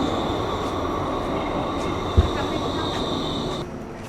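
Valley Line LRT light-rail train in Edmonton, Alberta, running steadily close by with a continuous rumble and a sustained high whine, plus a brief thump partway through.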